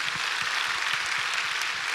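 Congregation applauding inside a church during a revival service, a steady, dense wash of many hands clapping for a couple of seconds with no voices over it.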